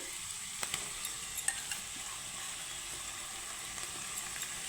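Grated raw potato fries with onion and garlic in a pan, a steady bright sizzle throughout with a few faint clicks of stirring, close and continuous without talk.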